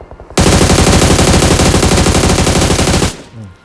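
Automatic gunfire in a shooter video game: a loud, sustained rapid burst of about three seconds, close and harsh, cutting off abruptly into a brief quieter tail.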